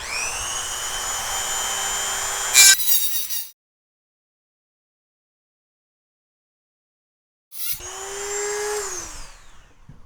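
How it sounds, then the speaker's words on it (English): A Dremel grinding wheel whines loudly and steadily while cutting a notch into a metal straight edge, stopping abruptly for a few seconds of silence before spinning back up at the end. "So you just start it off with the Dremel."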